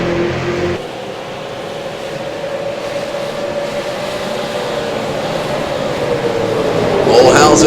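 Super late model race cars roar around New Hampshire Motor Speedway, a steady loud engine drone that swells toward the end as the field passes close by, with a commentator talking over it.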